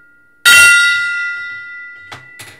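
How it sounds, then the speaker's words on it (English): A high-pitched gong is struck once, loud and bright, its ringing tone slowly decaying over two seconds, followed by two faint knocks near the end. "Prepare your ears. This is a little high-pitched. A little bit high-pitched on the gong."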